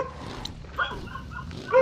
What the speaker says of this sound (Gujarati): કોના કૂતરો?